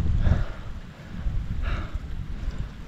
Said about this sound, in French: il y a juste du vent, ça souffle